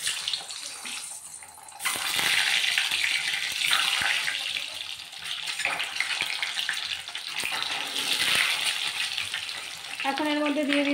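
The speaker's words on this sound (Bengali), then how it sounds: "এখন আমি এর মধ্যে ডিমগুলো ভেজে নেব।" Duck eggs, scored on their surfaces, frying in hot white oil in a pan, giving a loud, steady hiss and crackle that runs almost unbroken, swelling and easing slightly, with no talk.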